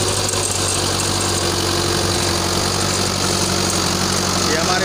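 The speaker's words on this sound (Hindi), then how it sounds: "ट्रैक्टर को चलाते हुए आगे बढ़ते हुए" A fifty-year-old International tractor engine runs steadily and loudly up close, a constant low chugging drone with vibration that holds unchanged for the whole stretch.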